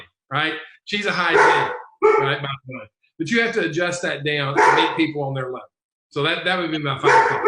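Someone talks continuously while a pet dog barks and yips intermittently nearby, the barks partly buried under his voice.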